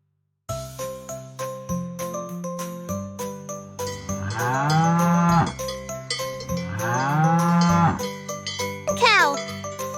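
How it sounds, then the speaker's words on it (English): Cow mooing in two long drawn-out lows over steady jingling cowbell chimes, loud and close, in a farm animal sound sequence. "Cow."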